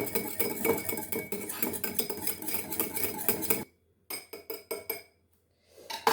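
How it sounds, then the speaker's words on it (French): A whisk stirs matcha in a cup, a busy metallic clatter and clink close by that breaks off into a few short separate taps near the end. No voices. "Je vais mélanger le tout."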